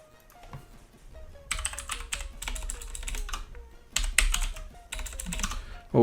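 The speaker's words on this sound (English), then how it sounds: "My dog's laid on the keyboard." Computer keyboard keys pressed by a dog lying across it, clusters of rapid clicking and clacking in several bursts, close and moderately loud, with a faint tone in the background and no speech.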